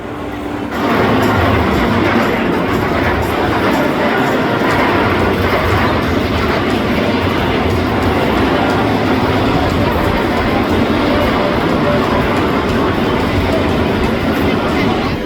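A one-train X-Flight wing coaster at Six Flags Great America rumbles loudly and steadily through its station, a continuous wash of rolling noise that runs from start to end with no breaks.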